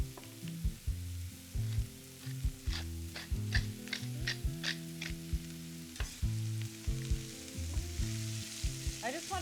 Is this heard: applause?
no